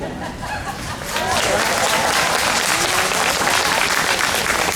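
Audience applause at a school commencement ceremony, starting softer then swelling into full, steady clapping from a large crowd that continues throughout, with faint chuckles mixed in.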